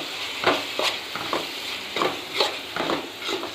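Spatula strokes turn tomato rice with coriander in a pan, producing soft scraping and gentle rustles at a slow, uneven pace over a faint background hiss, close and moderately quiet with no speech.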